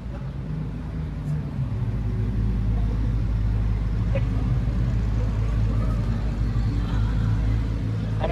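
An Audi R8 sports car arrives on a night street, a low steady engine rumble nearby with faint voices underneath.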